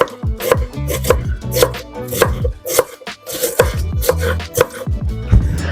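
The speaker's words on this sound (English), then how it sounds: "We're going to cut up half of this. And you want it to be small, minced small." A knife rapidly minces food on a cutting board for a mushroom barley risotto, making loud, close, uneven thuds in quick bursts that run on without pause, with no speech.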